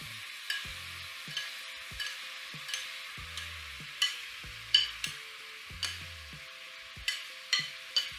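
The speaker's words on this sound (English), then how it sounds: "we're going to let this cook at nice high heat" Marinated mushrooms and a cauliflower steak cooking in a pan over high heat, a steady close sizzle broken by repeated soft knocks and scrapes of stirring roughly every second.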